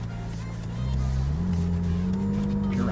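A McLaren 570S sports car pulls away from a standstill, its engine note climbing steadily in pitch as it accelerates, loud and close from inside the cabin.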